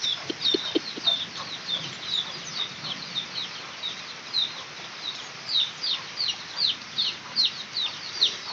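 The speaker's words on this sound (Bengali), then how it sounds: "আমাদের এই যে মুরগির বাচ্চাগুলো" Soft, rapid peeping and clucking from a group of small chickens, steady and close, with a few low clucks early on and no talking.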